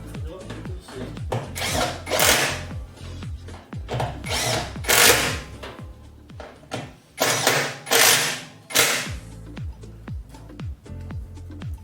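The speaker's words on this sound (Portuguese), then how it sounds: "Agora eu vou apertar para fazer o aperto do cesto." A power tool tightens the basket of a BWK12 washing machine during repair, giving repeated loud, rasping bursts of whirring and ratcheting that stop and start in short pulses, close by.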